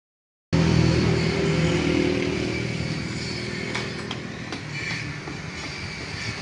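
A motorcycle runs steadily with its rear wheel spinning on a stand during a speed sensor test, a loud continuous mechanical drone that starts abruptly after a short silence and then eases slightly, with a few faint clicks.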